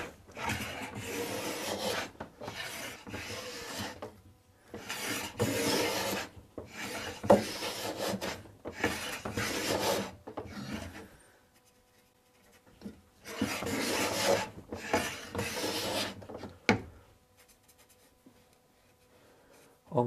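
Hand plane shaves wood on an antique chair being restored, in repeated rasping strokes of a few seconds each with short pauses between them, close and fairly loud with no talk.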